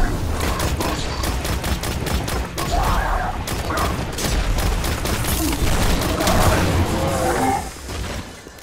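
Rapid, dense gunfire rattles almost without pause in Destiny The Taken King, with loud repeated shots and whooshing weapon effects over a steady low rumble, briefly dipping and ending in a quieter tail.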